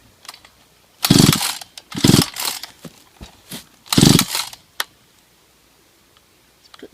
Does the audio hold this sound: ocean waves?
no